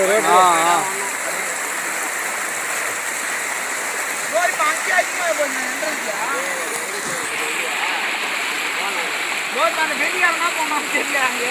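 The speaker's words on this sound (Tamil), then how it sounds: "அங்கே பாரு எவ்வளோ தண்ணி போகுது பாருங்க" Steady rushing water of the Palar River near Vellore fills the scene, a broad continuous wash like a fast stream, with people talking over it throughout.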